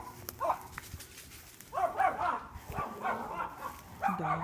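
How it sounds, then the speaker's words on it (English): Dogs barking in a backyard garden in Texas, several short bursts of barks in irregular clusters at moderate distance, with a quieter stretch between groups. "Dogs."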